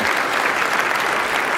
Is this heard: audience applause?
yes